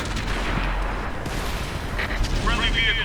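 Heavy tank gun blasts and rumbling explosions from World of Tanks, a dense, continuous roar of battle noise with a voice talking over it.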